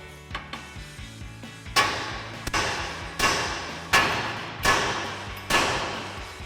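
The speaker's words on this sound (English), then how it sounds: "grab our hammer and give our knuckle a few taps here to separate that ball joint" A steel hammer strikes a truck's steering knuckle to free the ball joint during an F-150 suspension lift install, giving about six sharp metallic taps spaced roughly a second apart, close and clear, with no talk.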